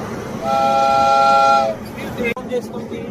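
Horn or whistle of a train at Vijayawada railway station, a steady multi-tone blast lasting about a second, then a busy station murmur with a sharp clunk near the end.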